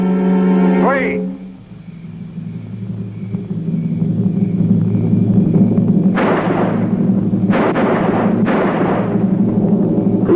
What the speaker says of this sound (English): On the count of three, I'm gonna fire.